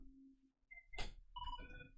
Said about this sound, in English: Oops, sorry, quick phone call.